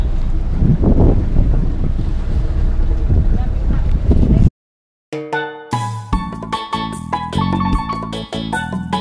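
A sailboat docking at a marina in Grenada after a windy passage from Trinidad: loud, blustery wind rumble and water noise for several seconds, then a brief dropout before music takes over.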